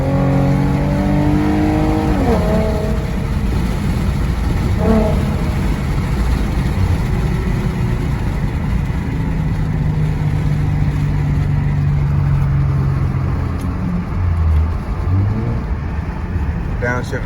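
A 2014 Ford Mustang with a Roush axleback exhaust accelerates loudly and steadily, its engine note rising through the gears with a brief dip at a shift, heard close from inside the car.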